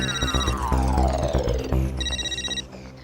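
A phone in a Hindi sitcom scene rings in two short bursts of bright electronic trilling, at the start and again near the end, over a busy music score with a descending swoop.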